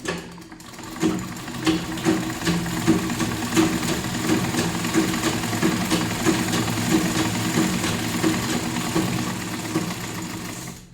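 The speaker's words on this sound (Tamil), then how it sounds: "இப்போ வந்து ஒரு வேஸ்ட் துணியில் வந்து நம்ம வந்து தையல் எப்படி விழுகுதுன்னு தைச்சி பார்க்கலாம்" A sewing machine stitches across a scrap of waste cloth with a steady, rapid mechanical whirr and rhythmic ticking, close up and continuous, with no voices.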